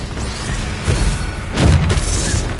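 A Confringo blasting-spell explosion in Hogwarts Legacy, a deep booming burst with a rumbling low thud and crackling tail, loud and close over a steady background of game ambience.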